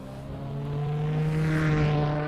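Simulated engine of a fifth-generation Toyota Supra with a 3-litre twin turbo in a racing video game at Croft, a steady droning hum that swells slightly as it holds one pitch, heard alone.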